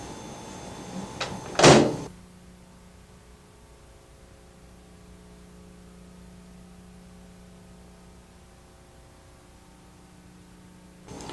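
A microwave oven door swings shut with a single close, firm thud, then only a low steady electrical hum fills the rest of the quiet room.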